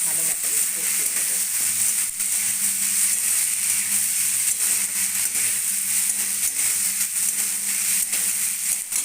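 Okra cooking with a spice paste in a pan over a very low gas flame, giving a steady, even frying sizzle throughout with occasional soft stirring scrapes and faint talk in the background.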